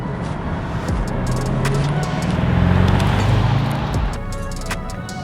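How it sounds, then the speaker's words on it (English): Open-top 2020 Bentley Continental GTC exhaust note heard from outside the car, a steady loud engine drone that swells toward the middle and then eases off. "You get a nice little exhaust note coming out of the rear of the car with the top down."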